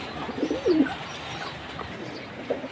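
Silver Jabra pankhi pigeons coo close by in a few soft, low warbling phrases over a faint steady hiss, with no talking.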